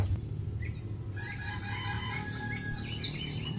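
Birds sing in a mountain forest with a series of short, bright chirps and whistles, moderately distant, over a low steady background hum and no talking.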